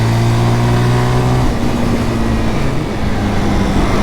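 A Zontes GK 350 motorcycle accelerates, its engine note loud and close, a strong rising drone that shifts pitch partway through and keeps pulling hard to the end.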